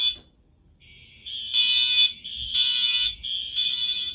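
Fire alarm sounding during a test, a loud piercing electronic tone that starts steady and then pulses in three long repeated bursts, close and alone with no talk.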